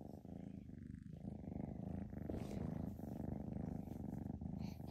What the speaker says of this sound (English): cute little kitty's purring